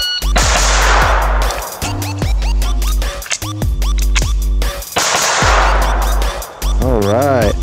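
A Kel Tec P17 .22 pistol fires in quick sharp bursts of close, loud reports, broken by a brief pause for a magazine reload before the next shots, with a voice speaking near the end.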